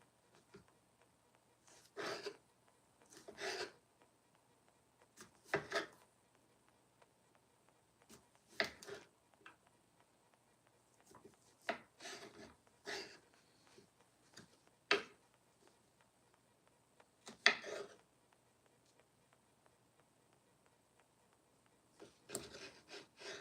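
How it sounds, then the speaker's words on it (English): A knife chops mushrooms on a wooden board, giving short clusters of soft taps with irregular pauses between them. The taps are fairly faint and close, with no talking. "chopping up some shrooms"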